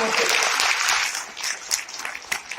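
An audience claps loudly and briskly at first, then the applause thins into scattered, uneven claps over a couple of seconds.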